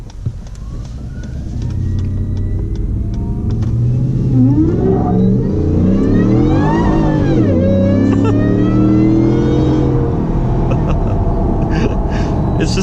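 A 700 hp Shelby F150 Tonka Edition truck's engine builds and revs loudly and steadily, with rising and falling harmonic sweeps from the powerful engine, heard up close for the whole stretch without talk.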